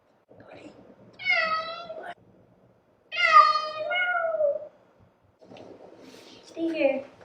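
A cat meows three times, drawn-out and plaintive with pauses between, close and clear with no talking over it.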